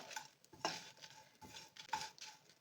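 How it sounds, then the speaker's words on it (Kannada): Spices and cashews dry-roasting without oil for Chettinad chicken masala are stirred in a pan, with a few soft scrapes and light clinks over a faint background, no voices. "ಮಸಾಲೆ ಉರಿತಿದ್ದೇನೆ, ಘಮ ಅಂತ ವಾಸನೆ ಬರ್ತಾಯಿದೆ. ಗೋಡಂಬಿ ಎಲ್ಲ ಫ್ರೈ ಆಗಿಬಿಟ್ಟಿದೆ."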